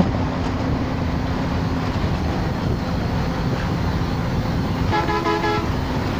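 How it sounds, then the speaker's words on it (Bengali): Car crossing the Jamuna Bridge in Bangladesh by day, a steady road rumble heard from inside the vehicle, with a short horn toot near the end. "গাড়ি চলতেছে আমাদের যমুনা সেতুর উপর দিয়ে।"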